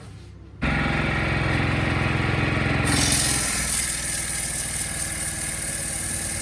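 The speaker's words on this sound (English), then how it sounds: "now we're sanding it a bit" A piece of turned wood is sanded while it spins on a woodturning lathe during a children's woodwork practice, a loud steady motor hum with a continuous rough rubbing drone that shifts tone partway through.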